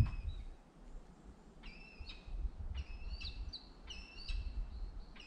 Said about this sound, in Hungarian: ez milyen madár?